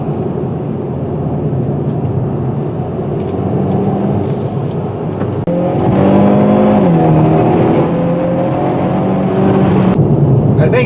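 A 2021 Hyundai Veloster N Turbo engine pulls steadily under acceleration, its drone climbing in pitch and then dropping as the automatic gearbox shifts up, loud and continuous from inside the cabin.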